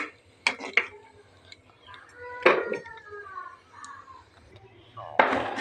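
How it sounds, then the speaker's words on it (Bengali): Metal clinks and clatter from a lid set on a cooking pot of jackfruit seed and shrimp curry, a few sharp knocks spaced out with a soft ringing tone, a voice speaking in between. "তারপর আমি আবার ঢাকনা দিয়ে দেবো"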